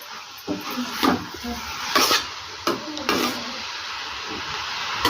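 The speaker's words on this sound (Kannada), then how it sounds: "ಟೊಮೆಟೊ ಎಲ್ಲ ಸಾಫ್ಟ್ ಆಗೋ ತನಕ ಇದ್ರ ಜೊತೆಗೆ ಚೆನ್ನಾಗಿ ಫ್ರೈ ಮಾಡ್ಕೋಬೇಕು" Chopped tomato and grated pumpkin fry together in a pan, a soft sizzle underneath repeated scraping strokes of a spoon stirring against the pan.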